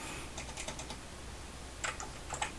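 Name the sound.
typing on a computer keyboard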